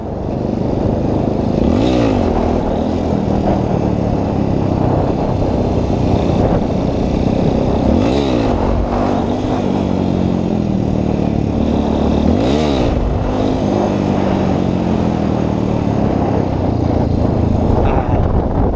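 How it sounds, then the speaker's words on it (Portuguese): A Yamaha Ténéré motorcycle engine roars loud and close during wheelie practice, rising in three sweeping revs over a constant heavy drone. "Vamos tentar empinar em pé."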